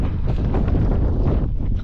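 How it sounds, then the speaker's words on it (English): Gusting wind buffets the microphone in a valley during a blizzard, a close, rough, continuous rush for a couple of seconds. "It's a bit windy."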